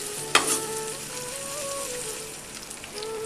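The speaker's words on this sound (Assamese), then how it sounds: "এয়া তেল গৰম হ'ল এতিয়া মই পিঁয়াজ দিছোঁ" Onions dropped into hot oil in a pan, with a sudden crackling burst at the start that settles into a steady sizzle, near and clear with no speech.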